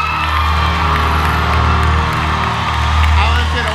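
A church congregation at a pastoral handover service bursts into loud applause and cheering, a dense continuous roar of clapping and whoops with voices shouting throughout.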